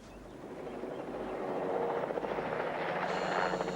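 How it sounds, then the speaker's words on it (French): A helicopter approaches from the east, its rotor chop and turbine whine growing steadily louder from a distance to close range, alone without voices. "Un hélico signalé plein est."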